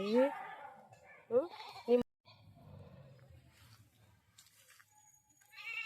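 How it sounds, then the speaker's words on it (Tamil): Goat bleating loudly and close in a rural yard in Odisha, three sharp wavering calls in the first two seconds, followed by quieter background murmur and talk. "இந்த ஆடு பிடிக்க முடியலை பாருங்களேன், எவ்வளோ திமிரு இந்த ஆட்டுக்கு."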